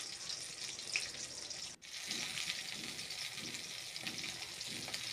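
Katla fish frying in hot oil, a steady, moderately faint sizzle with a continuous bubbling hiss and one brief break partway through.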